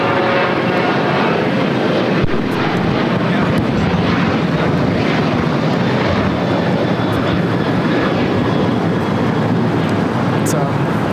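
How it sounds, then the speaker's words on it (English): A Boeing 787-9 Dreamliner arriving from Istanbul on runway 25 left at LAX, heard as a loud, continuous broadband jet roar that holds steady for several seconds, with people talking over it. "787-9 Dreamliner coming in from Istanbul is the next arrival"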